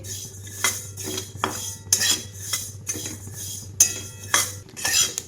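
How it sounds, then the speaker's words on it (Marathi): Desi sesame seeds roasting in a hot kadhai for til vadi, with repeated metallic scraping and clinking of a stirring spoon against the pan and faint crackle beneath, close and moderately loud, no talk. "तीळ भाजताना ना हे बघा असे तडतड उडले"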